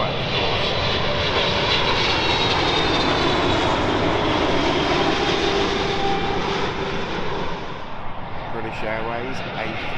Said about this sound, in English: Qatar's 777-300 coming in from Doha, of course.